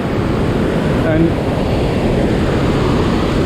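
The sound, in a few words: roaring water of Rhine Falls waterfall, Schaffhausen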